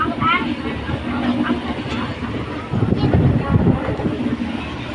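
A moving passenger train rumbles and rattles steadily with wind buffeting the microphone, a continuous low drone of the carriage in motion.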